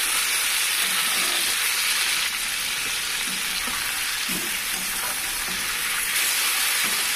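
Chicken pieces frying with onions in a pan for a dhaba-style curry, a steady close sizzle with occasional scraping stirs, no talking.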